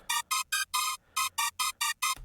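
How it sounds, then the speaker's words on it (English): Nine bright, buzzy high saw-wave synth notes pulse in quick, evenly chopped bursts, sharp and harmonically rich, ending with a short low thump. "The first layer that you're going to make is a high saw"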